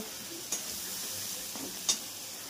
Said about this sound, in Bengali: এই যে চিংড়ি মাছটা ভেজে নিচ্ছি